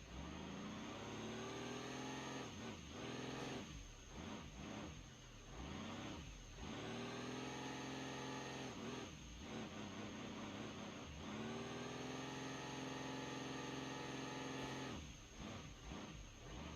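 Monster truck engine in BeamNG.Drive with a low-revving turbo tune, revving repeatedly in loud bursts that rise and drop back toward idle, close and steady throughout with no voices.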